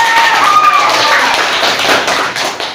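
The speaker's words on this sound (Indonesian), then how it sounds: "tepuk tangan untuk kelompok 1" Schoolchildren clapping for a student group in a classroom, a short burst of loud, close hand claps fading out within a few seconds, with a brief voice at the start.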